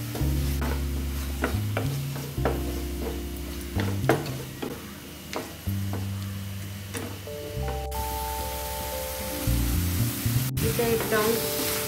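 Red chili powder, ketchup and chopped coriander fry in a hot pan with a steady sizzle, broken by repeated scraping and clinking of a spoon against the pan, near and clear with no talk.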